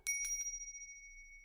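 A bicycle bell rings, with a few quick bright strikes and then a clear metallic tone that fades slowly in a quiet room.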